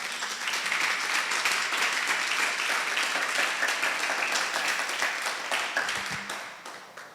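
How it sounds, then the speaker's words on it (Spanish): A church congregation breaks into sustained applause, dense clapping that holds steady before fading out at the end. "Vamos a darle un fuerte aplauso a Dios."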